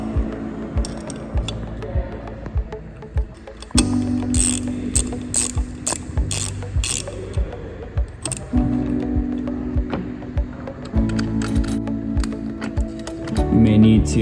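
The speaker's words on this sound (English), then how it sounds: "next you'll need a 7/16 wrench to get these 1/4 inch bolts off." A ratchet wrench clicks steadily as a 7/16 socket backs out 1/4 inch bolts on an Ampco H Series pump during a double mechanical seal change, close and continuous over a low mechanical hum with a few louder bursts.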